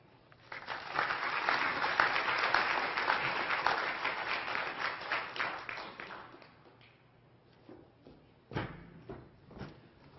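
An audience applauds to welcome Dr. Bob Brinkman at a lecture on global sustainability indicators, steady clapping that swells quickly, holds for several seconds, then fades into a few scattered claps and bumps.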